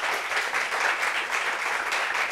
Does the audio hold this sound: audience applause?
yes